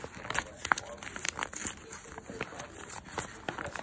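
A blind bag wrapper is ripped open at close range with quick crinkling and tearing bursts, while a person talks at the same time.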